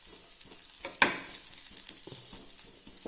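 Raw plantain stir-fry sizzles softly in a pan, with a faint steady hiss and a sharp clink of a spoon against the pan, plus a few light scraping stirs.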